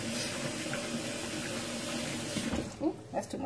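Water running from a kitchen tap while hog maws and pig ears are cleaned, a steady close splashing stream that breaks off near the end into a few softer splashes and drips.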